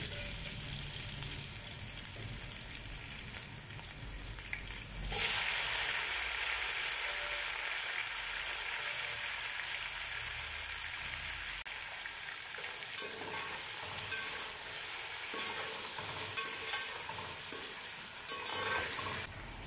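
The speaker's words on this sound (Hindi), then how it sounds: "अब इसको हम 2 से 3 मिनट भून लेंगे।" Beef fried in a pan with whole spices for pulao: a continuous close sizzle with stirring scrapes, a louder hissing burst partway through, then a steadier frying hiss, with no talking.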